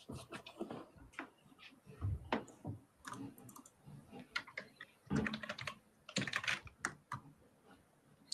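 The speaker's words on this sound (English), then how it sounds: "You better type." Typing on a computer keyboard, a run of quick irregular key clicks in bursts with short pauses, fairly close and moderately loud, with no talk over it.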